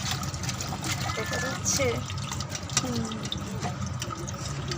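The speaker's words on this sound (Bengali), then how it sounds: "ফুলকপি আলুগুলো ভালোভাবে ধুয়ে নিতে হবে। আমরা ধুয়ে নিয়েছি, আর একবার ওয়াশ করবো।" Running tap water splashes steadily as cauliflower florets and potatoes are washed in a sink, close and continuous, with a voice speaking briefly over it.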